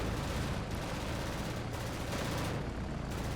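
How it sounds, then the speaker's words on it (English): Sustained 20mm cannon fire from Bf 109 fighters attacking Sunderland flying boats in a World War II naval air battle game, a dense continuous roar of rapid shots with no gaps, loud and close throughout. "20mm cannons on the 109s."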